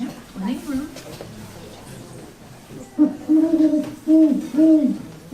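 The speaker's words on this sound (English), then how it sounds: "That's the sound of an owl" A great horned owl in Wellesley gives a series of deep, steady hoots, close and clear, after a few quiet spoken words.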